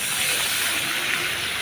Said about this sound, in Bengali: দিব সামান্য পানি